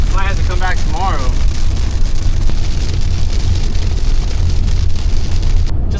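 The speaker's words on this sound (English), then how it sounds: "It just started raining out of literally nowhere." Sudden rain falls on a Tesla car and sounds as a steady, dense wash of patter and hiss heard from inside. A voice speaks briefly near the start.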